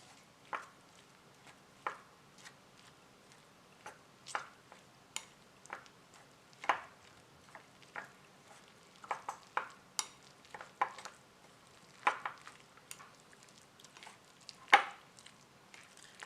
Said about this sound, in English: we're going to give that a good whisk